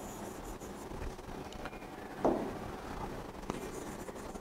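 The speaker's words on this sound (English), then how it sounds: "Let me just write it for you." Handwriting out a geometry proof for a Class 9 maths lesson on Euclid's geometry, with soft continuous scratching of a pen across paper, close and quiet against a faint background hiss.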